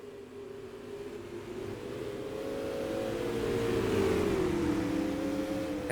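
Race cars roaring around Lee USA Speedway during a heat race, engines droning loudly and steadily, pitch sweeping as the pack passes and swelling slightly toward the end.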